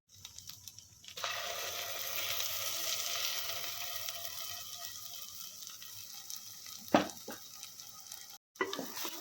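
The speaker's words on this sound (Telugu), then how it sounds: "ఇదిగోండి పాలక్ వేస్తాను చూడండి." Spinach paste for palak paneer curry tipped into a hot pan, setting off a loud burst of sizzling and bubbling that keeps on steadily, broken by a couple of sharp clinks from a spoon near the end.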